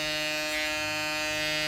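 A TPOB GO! electric hair clipper running steadily, a close, continuous high-pitched buzzing hum with no pauses or talk.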